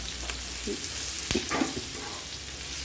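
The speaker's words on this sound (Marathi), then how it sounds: "मिरच्या ह्याला फ्राय करायचा मस्तपैकी तवा आपला गरम आहे" Green chillies fry on a hot griddle with a steady close sizzle, broken by a sharp scrape or tap and brief murmurs of voice.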